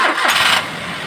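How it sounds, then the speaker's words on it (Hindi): A car engine cranks and catches during a radiator coolant flush, with the cap just refitted; a short, loud burst of starter and engine noise that settles into a steadier idle. "अभी इसे हम कैप लगा के गाड़ी को स्टार्ट करेंगे एक बार"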